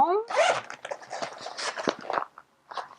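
Zipper pulled open on a Star Wars Rebels pencil case with two zip compartments, a series of quick close raspy zips, then a brief pause and a final short zip.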